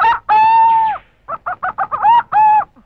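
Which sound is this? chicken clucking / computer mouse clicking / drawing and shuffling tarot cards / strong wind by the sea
chicken clucking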